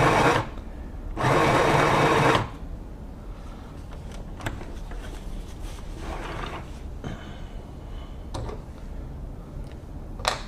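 A Singer Pixie Plus sewing machine runs in two loud bursts of straight stitching, each about a second long, followed by quieter clicks and mechanical handling sounds.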